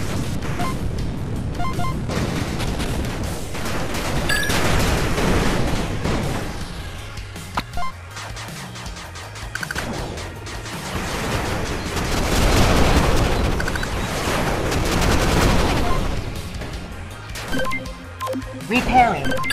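Retro-styled 8-bit Armies video game battle: gunfire and cannon booms pound a harvester and a cannon turret in rolling waves for nearly twenty seconds, with a voice announcing alerts over the din.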